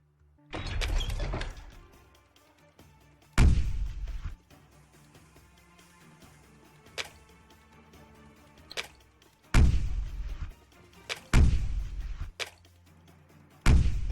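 Bombs exploding in a video game: several sharp, heavy blasts at irregular intervals, each with a short ringing decay, separated by quiet stretches with faint thumps.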